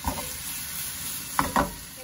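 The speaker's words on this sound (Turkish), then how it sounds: "soğanla ince doğranmış yeşil biberimizi ilave ettim. Şimdi beraber sofe etmeye devam edeceğim." Onions and finely chopped green peppers sauté in a pan with a steady close sizzle, while two short scraping stirs of a spatula stand out near the end.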